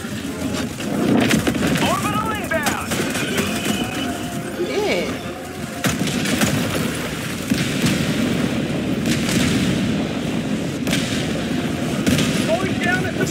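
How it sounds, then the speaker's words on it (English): An anti-material rifle fires in a multiplayer video game, heavy booming shots punctuating a noisy scene while several people talk and shout over it. "Looks like someone grabbed the anti-material rifle."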